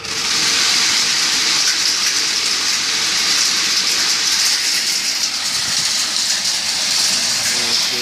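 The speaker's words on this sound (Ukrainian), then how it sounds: "Пішов процес вірення." A homemade grain winnowing machine runs loud and steady with a continuous rushing whir. Its noise holds unbroken throughout.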